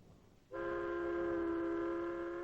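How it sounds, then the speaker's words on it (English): An elevated train in New York sounds a long, steady horn chord that starts abruptly and holds loudly to the end, over a low rumble of passing rail traffic. "Ride the elevated train, all the way from the Battery far uptown."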